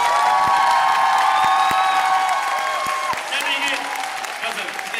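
A concert-hall audience at a Korean stage performance applauds and cheers steadily, a dense wash of clapping with whistle-like whoops over it, continuing under a voice.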